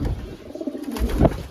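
Racing pigeon cooing nearby outdoors, a soft low repeated coo with a brief louder burst near the end, no talk.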